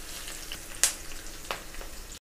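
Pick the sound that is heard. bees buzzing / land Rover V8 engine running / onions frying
onions frying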